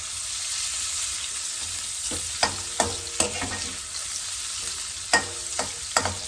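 Pancit ingredients frying in a pan until browned, a steady bright sizzle running throughout with a few sharp clacks of a utensil stirring and scraping.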